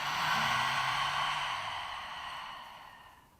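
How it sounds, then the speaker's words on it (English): A single long exhale through an open mouth during a yoga breathing exercise, a soft, close breathy sigh that slowly fades over a few seconds. "Open your mouth, exhale"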